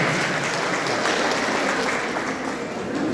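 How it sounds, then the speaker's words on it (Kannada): Steady, dense applause from an audience of women at a police awareness event, loud and sustained throughout with no talk over it. "ನಮ್ಮ ತಾಯಂದಿರು ಚಪ್ಪಾಳೆ ಮೂಲಕ ಅವರಿಗೆ ಅಭಿನಂದಿಸಬೇಕಾಗಿ ಕೇಳಿಕೊಳ್ಳುತ್ತೇನೆ"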